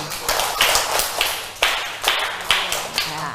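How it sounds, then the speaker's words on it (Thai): Students in an online class clap together in a series of sharp, fairly loud broadband bursts at a steady rhythm, slightly uneven and overlapping, with faint background noise. "ขอเสียงปรบมือสิบครั้งกันนักเรียน"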